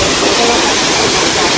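Waterfall on Ping Nam Stream beside the Nam Chung country trail in Hong Kong pours with a loud, constant broadband rush of falling water, close by and unbroken.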